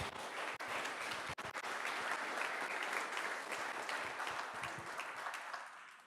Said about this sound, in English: give all of our founders a round of applause for all they do